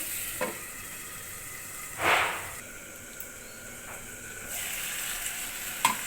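Desi chicken curry frying under a lid in a pan gives a faint, steady sizzle, with one brief louder hiss swelling up and a few light clinks and taps.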